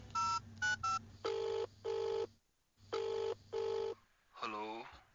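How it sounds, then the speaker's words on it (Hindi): A mobile phone dials a call: a rapid run of short keypad tones, then two pairs of long ringback rings separated by a pause, clean and close like a sound effect, followed by a brief voice at the end. "रवि ने अपनी जेब से मोबाइल निकाला और करण को कॉल किया।"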